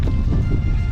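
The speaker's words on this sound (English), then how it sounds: "it's absolutely lashing down again, and it's very windy" Dense, steady roar of wind buffeting the microphone with a constant wash of heavy rain, loud and close throughout, on the West Highland Way between Kingshouse and Fort William.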